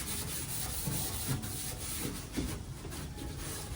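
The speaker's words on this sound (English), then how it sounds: "I'm gonna scuff the primer with some Scotch-Brite real quick" A green Scotch-Brite pad scuffs primer on a Volkswagen Beetle floor pan with a steady, close rubbing. The abrasive scrubbing comes in short repeated strokes.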